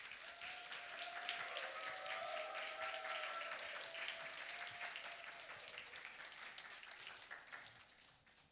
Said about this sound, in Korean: 나오실 때 환영의 박수로 맞이하겠습니다.